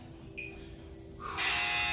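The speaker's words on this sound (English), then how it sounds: "the buzzer's going to go off" A workout interval timer buzzer sounds at a home core training session, a loud sustained electronic buzz that kicks in abruptly after a second of quieter hum and holds steady to the end, with no talking.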